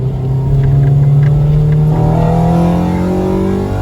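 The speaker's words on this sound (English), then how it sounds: "I don't like the way VTEC sounds though. It doesn't sound as aggressive." A Honda K20Z3 engine in a Honda Civic DX revs up under acceleration, its drone rising in pitch and turning raspier partway through as VTEC engages, loud and close with no talking.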